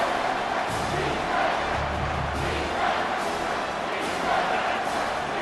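Steady, loud roar of a football stadium crowd at Memphis versus Michigan State as the defense is backed up near its goal line, a sustained wash of voices with a few swells and a commentator talking over it.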